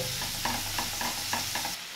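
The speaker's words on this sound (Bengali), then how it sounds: "এবার আমি এটা দিয়েও একটু বেশ ভালো করে নাড়াচাড়া করে মাছটা একটু ভাজা ভাজা করে নেব" Prawns with ground roasted cumin fry in a pan while being stirred, a soft, steady sizzle broken by several rhythmic scrapes of a spoon against the pan.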